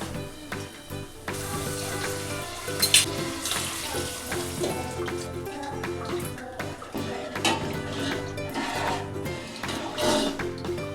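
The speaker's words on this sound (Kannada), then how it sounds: "ಇವಾಗ ಗ್ಯಾಸ್ ಕಟ್ಟಿ ಎಲ್ಲ ಕ್ಲೀನ್ ಮಾಡ್ಕೊಂಡು ಬಾಂಡೆ ಅದೆಲ್ಲ ತೊಳ್ಕೊಳಕತ್ತಿದ್ದೆ ರೀ" Dishes and utensils are washed in a home kitchen sink under a running tap, a steady rush of water with scattered clatters and splashes throughout.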